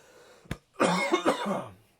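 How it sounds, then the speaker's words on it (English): One person coughs once, close and loud, with a short throat-clearing rasp after a brief click, during a tabletop fantasy role-playing game session. "I got a cough."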